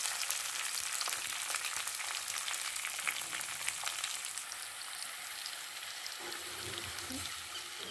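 Red chillies frying in hot oil in a pan for a tomato and mint chutney, a dense crackling sizzle with fine spitting pops, fairly quiet and steady, no voices.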